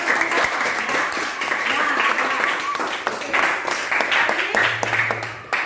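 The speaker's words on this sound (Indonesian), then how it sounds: "Berikan aplaus untuk teman-teman" Schoolchildren applaud their classmates in a classroom, a dense burst of many hands clapping with voices mixed in throughout, close and fairly loud.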